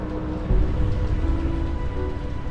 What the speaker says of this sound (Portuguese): No meio do rio, a chuva forte impede a visibilidade do horizonte.